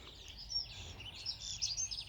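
Small birds chirp and twitter in the quiet morning after a spring storm, with faint, high calls scattered over a soft background hush.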